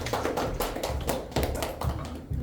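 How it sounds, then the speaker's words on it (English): Audience round of applause at a Toastmasters club meeting, steady dense clapping throughout with a few louder bursts, fairly close and loud, no voices. "So give a huge round of applause"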